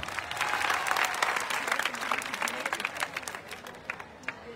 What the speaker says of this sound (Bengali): জোরে তালি দিবা সবাই